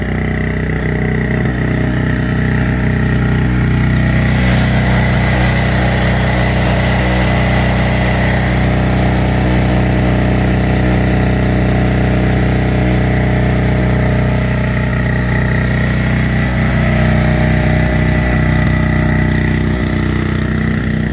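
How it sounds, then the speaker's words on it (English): A small two-cycle petrol generator runs steadily at close range, giving a continuous buzzing engine drone with an even, unbroken rhythm and no voices. "Started the generator on a second pull."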